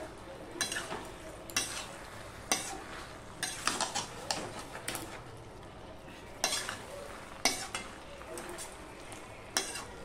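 Stirring a pan of vegetable curry with raw chickpeas and coriander leaves, soft intermittent scrapes and knocks of a spoon against the pot over a faint sizzle, spaced irregularly and heard up close at low volume.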